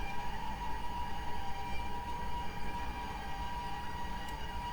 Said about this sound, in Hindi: और सामने ही एक ट्रेन आती हुई